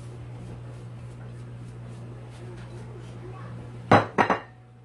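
Spices go into a cooking pot for Moroccan mrouzia: a low kitchen hum runs throughout, then near the end come a few sharp metallic clinks of utensils striking the pot, close and fairly loud.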